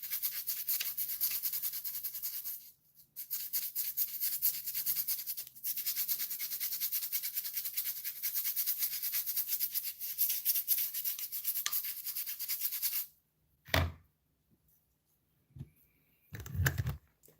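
Brush scrubbing sea shells coated in all-purpose cleaner, a close, steady bristly rasp running almost unbroken for about thirteen seconds, then stopping, with a few short scrapes and knocks after.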